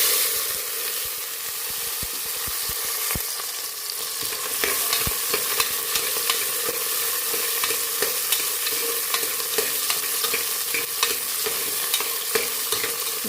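Thirty to thirty-five whole washed small onions fry in oil for beef curry, a steady loud sizzle with frequent scraping and clicking as they are stirred.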